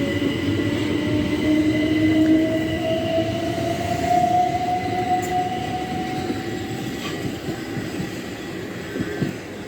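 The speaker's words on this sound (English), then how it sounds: "The train now passing platform 1 is off the St Pancras International." A train sweeping through the platform at Sandling station, a loud sustained rumble of wheels on rails with a rising whine and squealing tones that slowly fade.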